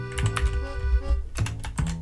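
Quick keystrokes on a computer keyboard while entering script code in Roblox Studio, a close, busy burst of clicks with a short pause midway, no voices.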